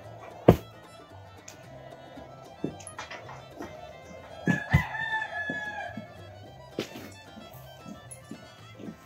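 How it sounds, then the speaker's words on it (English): Chickens and a rooster in a barn give a brief crowing call and soft clucks amid occasional sharp thumps, moderately close but fairly quiet. "We got some chickies in here in the barn."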